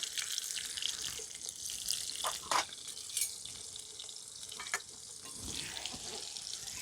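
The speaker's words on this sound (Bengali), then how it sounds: "আর আলুটা ভেজে নেব।" Potatoes with a little salt and turmeric fry in hot oil in a wok, giving a faint, continuous sizzling hiss with a few soft stirring clinks.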